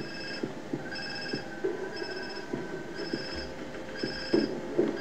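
Telephone ringing in a video game, a repeating electronic bell tone in regular bursts under low background game sounds and faint thuds.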